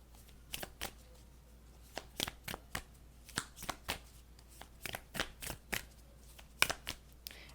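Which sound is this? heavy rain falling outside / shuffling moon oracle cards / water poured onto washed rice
shuffling moon oracle cards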